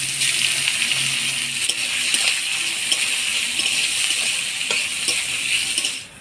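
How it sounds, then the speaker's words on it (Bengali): Chopped onion fries in a pan with whole spices, giving a steady close hiss and sizzle with occasional stirring clinks, without talk. "পেঁয়াজটা হালকা লাল করে ভেজে নিলাম।"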